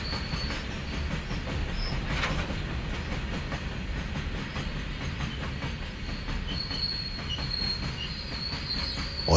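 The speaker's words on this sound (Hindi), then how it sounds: "और अगले ही पल जैसे ही ट्रेन आई" A train arriving and rolling over the tracks, with a continuous loud rumble, rhythmic wheel clatter and occasional high squeals of wheels on rails running steadily throughout, no voices.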